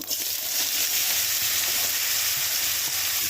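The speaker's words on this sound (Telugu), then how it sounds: "తాలింపు అయితే కాగుతుంది ఇప్పుడు బీరకాయ ముక్కలు వేసేస్తున్నాం" Chopped ridge gourd pieces fry in hot tempering oil, giving a continuous loud, close sizzle and crackle that runs steadily without any voices.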